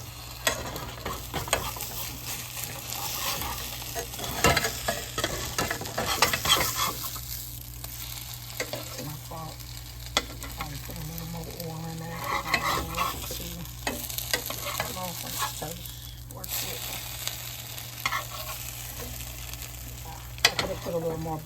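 French toast frying in plant-based butter on a stovetop, a steady close sizzle with intermittent scraping and stirring clatter from the pan throughout, no talking.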